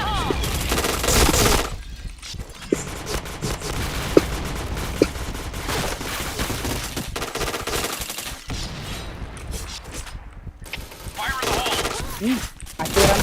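Continuous automatic weapon fire in a video game shooter, dense and steady over several seconds with short lulls, with a player talking intermittently over the shots.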